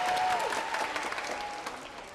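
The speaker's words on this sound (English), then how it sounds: "Claps and cheers rang out as children and parents witnessed Carson Entertainment's Las Vegas-style magic show." Children and parents clap and cheer at a Las Vegas-style magic show hosted by a Boys and Girls Club, a dense, steady wash of applause through the whole span with scattered cheers on top.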